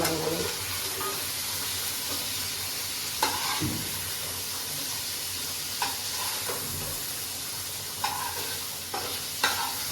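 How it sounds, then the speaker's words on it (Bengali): Shrimp lightly frying in oil in a home kitchen pan, a steady sizzle running throughout with a few sharper spatters and stirring clinks scattered across it, close and moderately loud, no talking. "চিংড়ি মাছটা আমি একটুখানি হালকা ভাজা করলাম"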